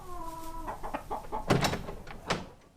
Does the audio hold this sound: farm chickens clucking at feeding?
yes